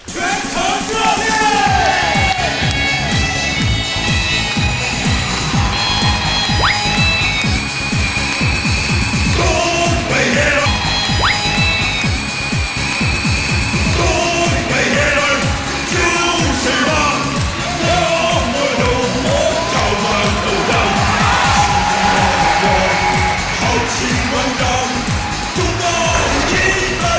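A studio audience at a televised dating show applauds and cheers loudly and continuously as a young contestant who spent 200,000 yuan on cosmetic surgery walks on stage, with music running underneath the whole time.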